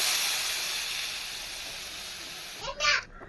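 Steady loud hiss as snake gourd goes into a hot pan with fried onions, sizzling continuously before fading, followed by a brief clatter.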